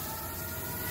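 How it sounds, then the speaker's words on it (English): Emergency vehicle sirens wail continuously outside a supermarket beside a car wash in Bangkok, a dense, loud wash of street noise filling the moment. "A lot of sirens happening at the moment."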